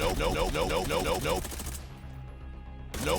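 Rapid bursts of automatic gunfire in the video game Arena Breakout crackle close by, then pause for a moment before another burst starts; the shots have a punchy, game-like character.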